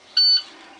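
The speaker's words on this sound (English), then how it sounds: "We see the light, we hear the buzzer." A school bus low air pressure warning buzzer sounds once, a steady electronic tone lasting a fraction of a second, clear and fairly loud against a quiet cab, with the start of another tone at the very end.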